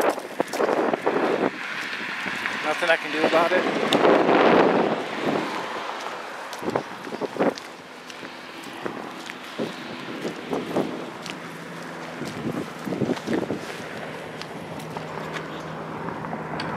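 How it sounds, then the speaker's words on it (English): Wind buffets the microphone in loud, uneven gusts and rumbles, with a few brief spoken words and scattered clicks and knocks. "It's windy out here, people, so I'm sorry."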